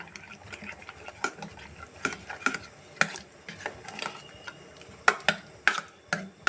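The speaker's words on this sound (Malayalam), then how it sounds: "ഇതൊന്ന് കയ്യിലോണ്ട് ഇളക്കി കൊടുക്കുന്നുണ്ട്" A ladle stirs and clicks through cooked dal and small onions in a pot of onion sambar, with irregular sharp taps and scrapes over a soft background.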